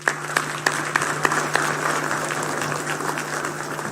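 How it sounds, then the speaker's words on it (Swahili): An audience at a National Defence University graduation ceremony in Nakuru claps steadily, a full hall of applause with a few sharp louder claps near the start, continuous and fairly close. "Tuwape makofi tafadhali."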